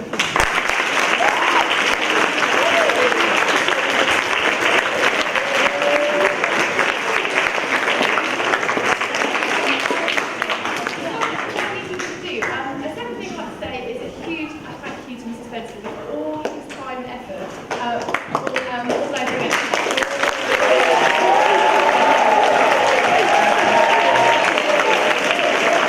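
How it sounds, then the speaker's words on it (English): An audience at a school house debating event gives a long round of applause, with dense, loud clapping that dips midway, mixed with voices, then swells back to full strength. "So again, a round of applause."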